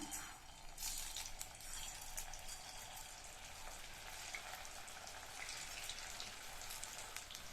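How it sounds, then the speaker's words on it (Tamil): Marinated raw banana pieces sizzle and crackle steadily in hot oil, a soft continuous frying hiss with scattered pops. "நம்ம மேரினேட் பண்ணி வச்ச வாழைக்காயை ஒவ்வொன்றா எடுத்து எண்ணெயில் சேர்த்துடலாம்."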